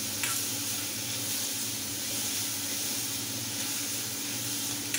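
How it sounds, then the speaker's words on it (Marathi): Grated ridge gourd sautés dry in a hot pan with no water added, letting it steam: a steady, continuous sizzle with soft stirring, close and even throughout, no voices. "परतून घेऊया आणि थोडीशी वाफ यायला द्यायचं."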